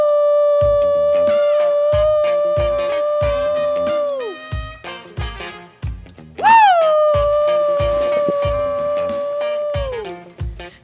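A man imitates a dog howling, with two long, wavering howls that slide down at their ends, set over a steady rhythmic thumping background.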